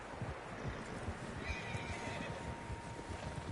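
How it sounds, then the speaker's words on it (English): Horses whinny faintly amid hoofbeats and an outdoor ambience in the video game Red Dead Redemption, with several animals nearby and a thin neigh rising briefly over the steady background. "Horses, quite a few of them."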